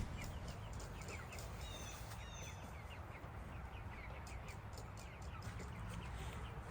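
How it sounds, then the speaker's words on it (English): Chickens cluck and chirp intermittently in a coop amid a steady, noisy background hiss, with faint scattered calls throughout. "Put it out into the chicken coop. Chickens love it."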